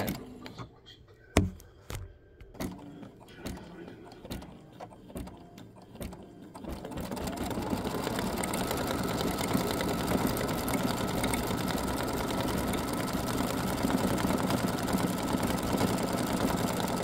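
An embroidery machine stitches the pink part of a flamingo wing for a flamingo-with-sunglasses quilt block, starting with a few sparse clicks and taps before settling into a steady, close, continuous mechanical whir with a rapid needle rhythm.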